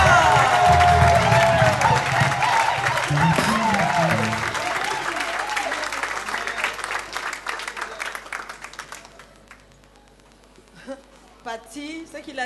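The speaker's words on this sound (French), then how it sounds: "on se lève et on les acclame très, très, très fort" A church audience at a New Year's Eve worship event gives a long burst of loud, dense applause and cheering that slowly thins out to scattered claps, with a voice speaking over it.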